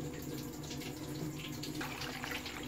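Fresh tap water runs steadily into a pot of meat being prepared for cooking, a continuous close hiss and splash with no talk.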